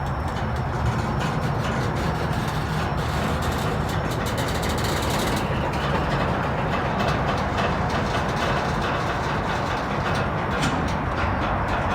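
An NS or CSX freight train rolls past close to a rail yard, a loud, steady rumble of wheels and railcars that fills the whole stretch without pause and with no voices.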